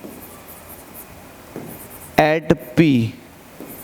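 A physics solution being written out by hand, with faint scratchy strokes running steadily in the background before a short burst of speech cuts in near the end.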